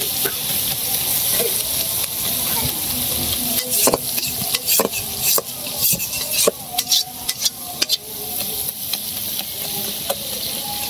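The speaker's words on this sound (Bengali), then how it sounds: "আমি একটু লাড়াচাড়া দিয়ে দিতেছি।" Food sizzles in a frying pan in a home kitchen as a utensil stirs and scrapes it in repeated, uneven strokes over the continuous close frying hiss.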